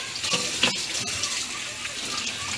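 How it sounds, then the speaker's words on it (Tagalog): Water pours steadily from a kitchen tap into a sink while pork belly is being cooled, a close, continuous running gush with no talk over it. "Palamig na tubig."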